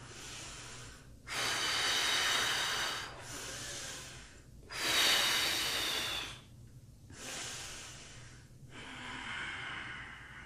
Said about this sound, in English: Deep, long breaths.